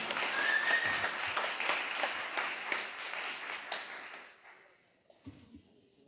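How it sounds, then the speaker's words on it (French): An audience applauds the women honoured at a regional trades awards ceremony, a dense sustained clapping that fades out after about five seconds, leaving a few faint sounds in a quiet room. "on peut encore les applaudir et on va faire la photo de groupe"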